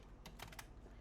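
Quick bursts of keystrokes on a computer keyboard while typing Python code, a few soft close clicks in about a second over faint room noise.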